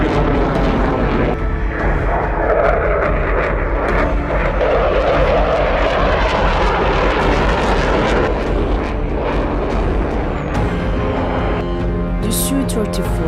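Sukhoi Su-24 Russian fighter aircraft roaring loudly and continuously with a steady broadband engine rush, heavy throughout with music playing underneath.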